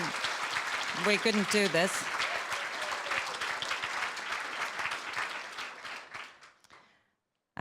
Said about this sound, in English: please stand up and please applaud them as well